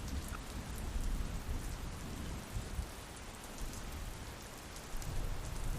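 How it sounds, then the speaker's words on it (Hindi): Heavy rain pours steadily in a dense, even hiss, close and constant throughout, with no voices. "अब भी जोरों से बारिश हो रही थी।"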